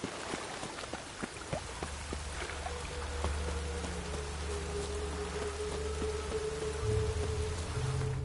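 Rain falls in a role-playing video game, a soft, steady patter with scattered drop ticks over a low background hum, quiet and continuous with no talk.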